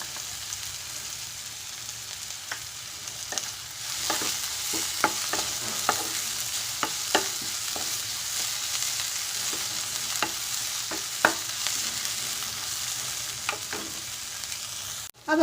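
Crushed ginger, garlic and green chilli fry in a pan with a steady soft sizzle, punctuated by repeated crisp stirring scrapes and taps from a spoon, with no talking.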